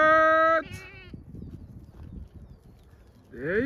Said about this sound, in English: The goats are here.